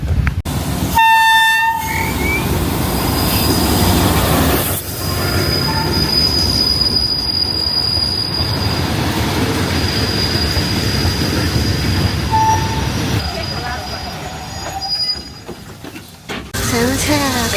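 A train arrives on the Death Railway in Kanchanaburi at the Tham Krasae cliff section, its wheels squealing loudly and continuously close by, with horn blasts and some voices in the background.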